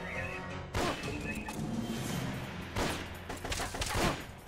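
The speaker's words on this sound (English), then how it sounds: "This box is shooting at me." Gunfire from an enemy hiding in a box in Metal Gear Solid: Peace Walker, a few sharp cracks spread over several seconds amid a dense clattering game soundscape, moderately close.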